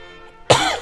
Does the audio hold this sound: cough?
yes